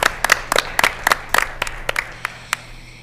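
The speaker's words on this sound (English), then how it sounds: "let's just give all of yourselves a round of applause" Scattered applause from a small audience at a school board meeting, a few dozen distinct sharp claps close by that thin out and fade within a few seconds.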